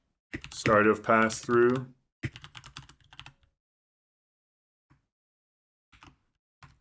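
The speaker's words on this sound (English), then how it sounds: "So my test is I'm just going to type some comments in here." A person types comments on a computer keyboard while programming a CNC lathe: a short burst of clicky keystrokes right after someone speaks, followed by a few faint, scattered taps.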